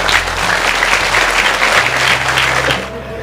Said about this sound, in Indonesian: Tepuk tangan untuk beliau ya.